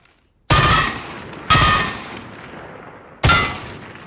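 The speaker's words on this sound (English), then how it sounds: "Shoot all the targets." Three loud, sharp gunshots in a Warzone shooting-range exercise, each with a ringing metallic decay, spaced unevenly about a second and then nearly two seconds apart, with no talk.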